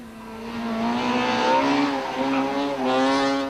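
A Volkswagen Polo Super 2000 rally car slides through a tight stage, its engine note loud and close and rising and falling steadily with revs, with tyre scrub and brief throttle lifts.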